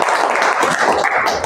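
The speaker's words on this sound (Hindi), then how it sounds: "ताली बजा दीजिए।" Students in a class 9 chemistry lesson clap together briefly, a dense burst of hand claps filling the room for a moment.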